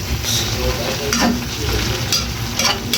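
Beef steak frying in sauce in a home kitchen while being stirred, with a steady close sizzle and scraping stir strokes throughout, no talking.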